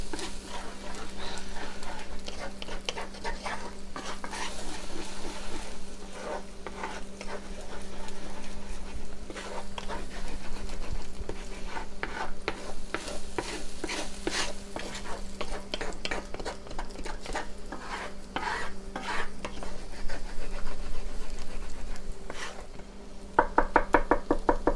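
Egg fried rice is stirred almost constantly in a cast iron pan with onions and garlic, making steady scraping and knocking of the utensil against the iron over a soft sizzle.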